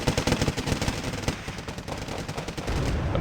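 Dense video-game gunfire from Wargame: Red Dragon: continuous rapid machine-gun bursts and overlapping shots, loud and rattling throughout, with no talking over it.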